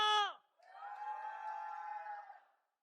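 A church congregation roars in a sustained burst of shouting and cheering during Sunday morning worship, rising after a brief pause and holding steady for about two seconds before fading out.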